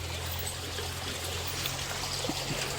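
Irrigation water runs through a channel in a farm field, a steady soft trickle and gurgle close by with a low hum underneath and no talk.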